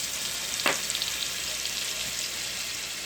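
Three tablespoons of butter melt in an Instant Pot with a soft, steady sizzle, a single sharper hiss near the start, and a faint, even frying sound afterward.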